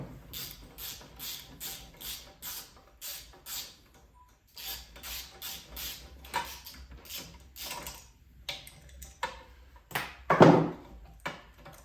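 Metal throttle linkage being worked free from a Honda GX200 clone small engine, with a run of close, regular clicks and rattles, a pause, then scattered knocks and one sharper clatter near the end.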